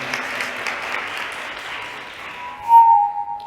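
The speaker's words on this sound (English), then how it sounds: "Give them a round of applause as they prepare" Applause from an audience at a STEM careers event, a soft steady patter of clapping that tapers off, followed by a brief tone near the end.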